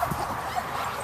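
Puppies in a pen on a patio give short, thin, high whimpers and yips, close by and brief, over low background noise.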